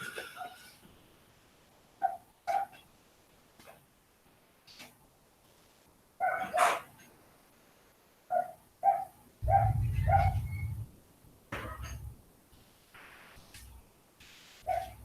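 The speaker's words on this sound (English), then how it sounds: "I'm in a dog fight out front." Dogs bark outside in a scuffle out front, with sharp yips and barks in scattered bursts, some louder and closer and some fainter, over a quiet background.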